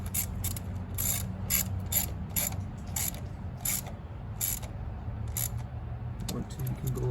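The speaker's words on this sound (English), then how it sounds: "Tighten this down nice and snug." Clicking ratchet wrench tightening valve cover bolts on a 2006-on 2.4L Mitsubishi Eclipse engine, a series of close, sharp ratcheting bursts in an uneven rhythm over a low background hum.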